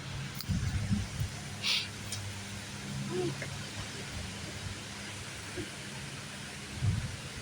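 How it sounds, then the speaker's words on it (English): Thunder rumbles through steady rain during a severe evening thunderstorm, with low booms near the start, middle and end, while people talk over it. "Severe thunderstorm."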